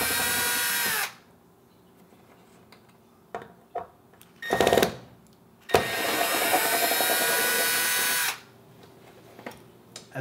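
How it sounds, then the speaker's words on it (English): A power drill backs two Phillips head screws out of a Samsung electric range's control panel: a short whir, then a longer sustained run, close and loud, with faint handling clicks and taps between them. "Remove the 2 Phillips head screws."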